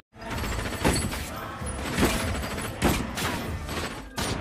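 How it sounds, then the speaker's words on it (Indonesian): Gunfire from shooting practice in the zombie horror film The Rezort, heard as a dense run of repeated shots with a few louder bursts standing out over a continuous rattling background. "para wisatawan diajari dalam menembak dan membunuh para zombie yang ada"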